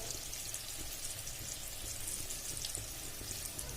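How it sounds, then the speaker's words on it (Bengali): Steady, soft bubbling hiss of lentil fritters deep frying in oil, a continuous even crackle with no voices, fairly quiet throughout. "আমি আমার বড়াগুলো খুব ভালো করে ভেজে নেব"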